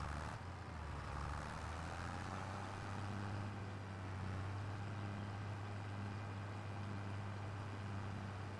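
A 190-horsepower tractor engine rumbles steadily as it drives across a farmyard in Farming Simulator 25, a continuous low drone at a constant level with no speech.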